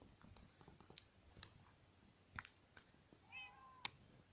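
Cats in the Minecraft video game give several short, faint meows at a low level, with soft clicks and game noises scattered around them.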